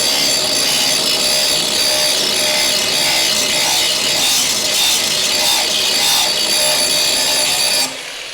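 A grinding wheel bites into car body metal during a Dodge Charger crew cab restoration, a loud, harsh, continuous rasp held nearly steady for eight seconds before cutting off abruptly.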